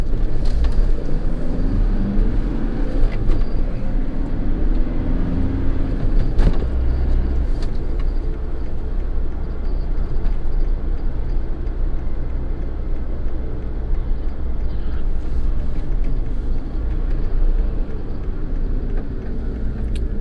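A car drives fast along a road between towns, heard from inside as a loud, constant low engine and road rumble with tire noise, no talk.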